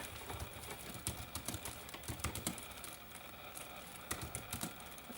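Typing on the keyboard of a Razer Blade 2016 14-inch laptop, a run of close, fairly soft key clicks in irregular bursts with brief pauses, no talking.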